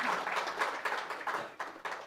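A crowd at a public event with a film star present breaks into short bursts of clapping, a few uneven waves of applause over about two seconds, moderately close.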